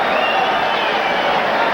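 A boxing arena crowd roars in a steady, loud wash of cheering and noise at a championship fight between Julio Cesar Chavez and Jose Luis Ramirez.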